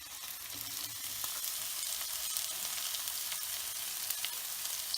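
Chopped shallots and a small onion sauté in a pan as the base for a beef and raw banana curry, sizzling in a steady, crackling fry with faint stirring scrapes throughout, no voices.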